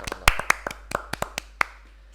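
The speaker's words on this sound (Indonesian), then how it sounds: "Oke, X-Hop Production, tepuk tangan dulu." A handful of people clap at a podcast taping, sharp separate claps in an uneven, sparse burst, with louder hits standing out before they thin to a few stragglers.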